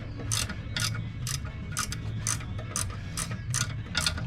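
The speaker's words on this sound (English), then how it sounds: "you can use this ratcheting wrench" Ratcheting wrench clicking in quick repeated bursts while loosening bolts on a 1966 Ford F100 engine during disassembly, the sharp pawl clicks close and distinct over a steady low shop hum.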